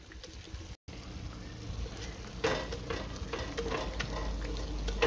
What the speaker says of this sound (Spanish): Miren, porque miren que yo estoy batiendo aquí los frijoles